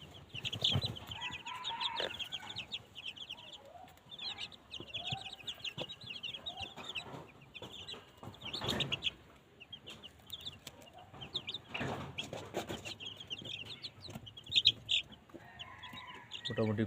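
A flock of 13-day-old Sonali chicken chicks chirps, with dense high peeping calls that rise and fall in bursts, heard close, along with occasional clucks and rustling.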